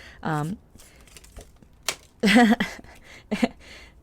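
Tarot cards dropping and slapping onto the floor in a few quick clattering bursts, close and dry, alone without talk.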